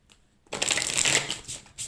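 Tarot cards shuffled in a short burst, a quick crisp riffling flutter lasting about a second, close and clear, followed by a faint tap.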